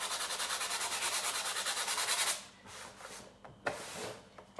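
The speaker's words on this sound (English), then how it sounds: "And I'm going to sand here a bit." Dry paint on a glass surface being sanded by hand in steady rapid back-and-forth strokes, close and continuous, then easing into lighter scattered rubs and a few handling knocks.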